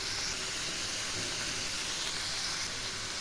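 Data shak (amaranth stem greens) go into a hot pan with green chilies and sizzle loudly. The broad, even hiss holds steady for the whole stretch, close-up, with no talking.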